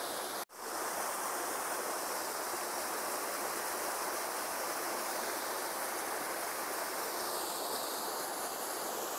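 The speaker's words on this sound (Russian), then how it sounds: "Тут река вскрывается уже. Ну, понятно, откуда фонтан течет." A mountain river breaking open through the ice near a town rushes and gushes steadily, a loud, continuous broadband roar filling the scene from start to end with no voices.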